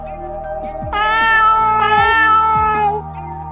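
A cat in an RPG Maker video game gives a series of clear, loud, tonal meows, several drawn-out and overlapping with short chirps, synthesized game-style with no talking.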